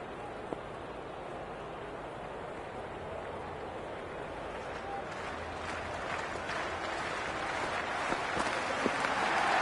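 Stadium crowd at a T20 World Cup cricket match, a broad sustained roar of cheering and applause filling the background, steady and dense with occasional louder swells.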